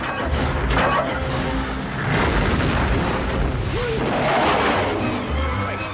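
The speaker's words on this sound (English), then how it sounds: "Alexander fires his fist missile." The fist missile firing in the film Robot Jox: a sequence of loud booms and bursts with whooshing blasts, swelling twice in intensity over a dense, rumbling film soundtrack.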